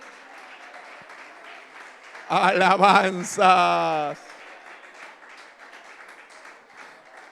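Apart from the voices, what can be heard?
church congregation applauding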